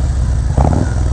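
Harley-Davidson Evo-style motorcycle engine fitted with a Screaming Eagle torque cam, a loud, steady low rumble that swells with a brief burst of revving midway through, close and continuous with no talk.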